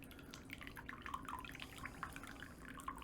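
Water, filtered with charcoal, is poured for Fukamushi green tea, giving a faint, steady trickle with soft dripping splashes throughout and no talking.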